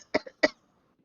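During a Dungeons & Dragons tabletop game, a voice imitates coughing from behind a door with three short, dry coughs in quick succession, close and fairly quiet, followed by silence.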